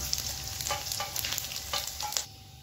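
Pieces of flour dough fry in hot oil for a chicken-style dish, giving a steady close sizzle with a few brighter crackling bursts and light stirring, no talking.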